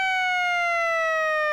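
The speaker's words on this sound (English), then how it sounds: "that's pretty much our siren" A synthesized siren patch built in the Tunefish software synth sounds as a steady electronic wail whose stacked harmonic tones glide slowly downward in pitch, clean and alone with no voices.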